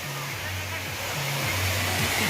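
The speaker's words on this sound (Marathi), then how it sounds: "वरतून पाणी धबधब्याचं येते खाली" A constant, loud rush of water falling from a waterfall near Pune fills the clip, with a voice faintly audible under it.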